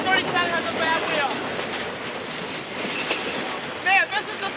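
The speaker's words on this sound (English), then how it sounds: "Man, this is the fastest train I've ever seen come on this connection." CSX freight train led by locomotive 3099 passing on the rails at speed: a continuous close rumble with clickety-clack of wheels and brief squeals, with someone talking over it.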